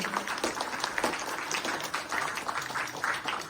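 Hand clapping from an audience for the musicians at a Kojagiri evening concert, a steady patter of many claps at moderate volume.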